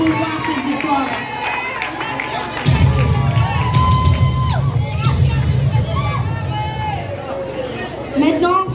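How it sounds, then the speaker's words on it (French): Crowd at a secondary school anniversary celebration at Complexe Scolaire Bakona cheering and shouting for a student, a loud sustained roar of many voices with children's shouts rising from the middle onward, chatter underneath. "Applaudissons pour elle, s'il vous plaît, applaudissons pour elle."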